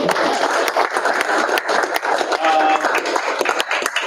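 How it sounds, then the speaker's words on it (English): Applause in a school board meeting room for a high school baseball player of the year, a brisk burst of clapping from a modest gathering with faint voices underneath. "round of applause for him"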